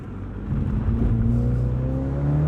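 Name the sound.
2022 MINI Cooper John Cooper Works Convertible engine accelerating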